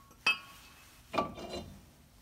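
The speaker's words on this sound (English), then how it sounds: "The rotor came right off." Brake rotor being pulled off the front hub of a 2000 Saturn SL2, the slightly rusted disc giving two distinct metallic clinks about a second apart, then a softer scraping rattle, close and otherwise quiet.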